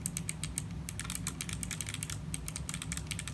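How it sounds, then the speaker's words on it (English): A single Kailh Box White clicky switch, mounted in a keyboard case with no keycap, is pressed over and over, giving a steady run of sharp, close, crisp clicks with no talk. "Here's what the switch sounds like in the case with no keycap."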